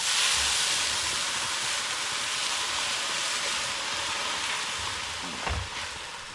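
A loud, broad hiss of steam rises as a little water is poured into a hot cooking pot of suman balinghoy over an open fire, steady and slowly fading, with a few low thumps near the start and end.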